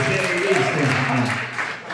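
An audience at a stand-up comedy show claps and applauds steadily throughout, a dense wash of clapping with voices mixed in.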